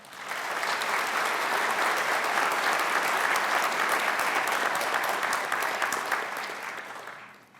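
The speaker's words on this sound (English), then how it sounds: "Please join me in a round of applause for his talents and time." An audience claps for a musician at an Ivy Day evening event, a dense, sustained round of applause that swells quickly, holds steady for several seconds, then tapers off.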